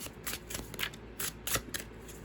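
Tarot cards being shuffled by hand in quick, irregular bursts of soft riffling and sliding, close and fairly quiet, with no talking.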